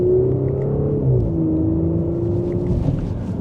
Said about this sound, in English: A little bit more of a throaty exhaust note for the Audi versus the BMW